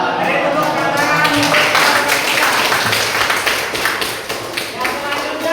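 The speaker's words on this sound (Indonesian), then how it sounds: "Dari tepuk tangan." An audience at an academic presentation session claps in a dense, steady burst of applause that holds for several seconds before slowly thinning out, with voices mixed in.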